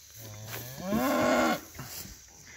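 A single cow on a cattle farm moos once, rising from a low drawn-out tone to a louder bellow and then stopping, clear and fairly close in a quiet outdoor setting.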